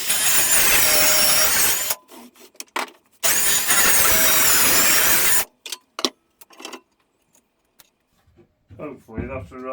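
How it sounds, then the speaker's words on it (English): Track saw cutting through the wooden sides of a tall garden planter, two loud sustained whining bursts of roughly two and three seconds, followed by quieter clunks, a short voice and scattered handling noises. "I thought I'd just stick the track saw on and just trim them off"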